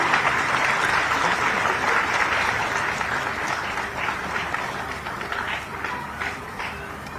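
Audience applause during a lamp lighting ceremony at a Jharkhand government event, dense continuous clapping that slowly thins and softens toward the end.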